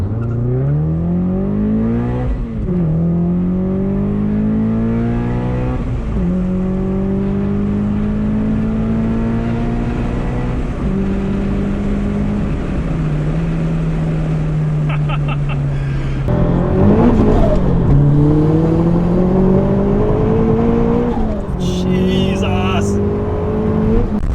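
A turbocharged Subaru BRZ/Toyota 86 running E85 ethanol accelerates hard through several gears, its engine note climbing loudly again and again and dropping at each shift, close and dominant throughout.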